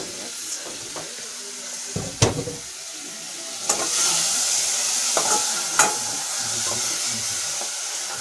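Vegetables hiss and sizzle in a hot frying pan in a home kitchen during preparation of traditional African greens, a steady close frying noise broken by a few sharp clanks and stirring knocks.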